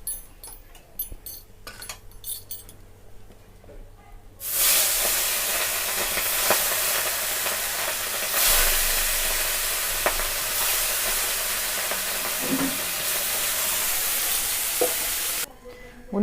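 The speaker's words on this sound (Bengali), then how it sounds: "আর বাকি যে মাছগুলো আছে সেগুলো দিয়ে আমরা ভালো করে ভেজে তুলে নেব।" Tangra fish fry in hot oil in a kadai, a loud continuous sizzle bursting in after a few seconds of quieter clinks, then cutting off near the end.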